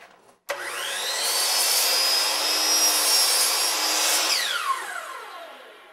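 A saw cuts a miter through wainscoting or paneling stock held in a jig: a loud, steady whine spins up, holds for about four seconds, then winds down, with no talk.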